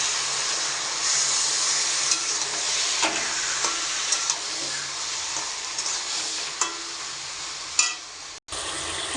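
A fish head fries with taro greens and turmeric in a pan, giving a loud, close, continuous sizzle broken by scraping stirs and clatters of a spatula against the pan.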